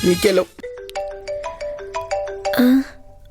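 A mobile phone's melodic ringtone for an incoming call plays for about two seconds in a Telugu comedy web series scene, with brief talking just before and right after it.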